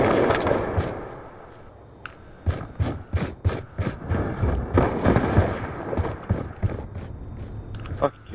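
Gunfire in the video game Call of Duty Black Ops 2 during a sniper match, a loud burst of shots followed by a rapid series of sharp cracks over game noise, with a player talking throughout.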